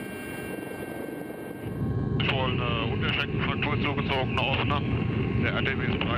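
Rescue helicopter Christoph Gießen, an air ambulance, roars in flight with a dense, continuous rotor and engine rumble that grows louder partway through. People talk over the steady noise.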